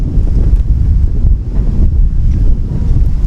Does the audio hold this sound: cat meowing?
no